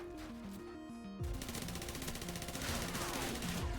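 Mini Uzi fire in a Modern Warfare Call of Duty game, fast sustained automatic bursts that kick in after a quieter opening with a game music tone and then rattle on steadily and close until the clip ends.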